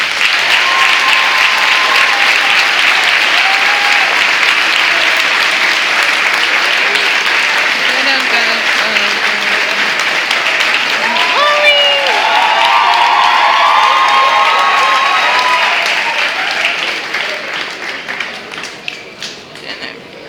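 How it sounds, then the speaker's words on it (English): Sustained, dense applause from a large audience at a graduation ceremony as the class of 2013 stands, with some cheering mixed in; it holds steady before thinning and fading out near the end. "the audience will show their approval with a round of applause"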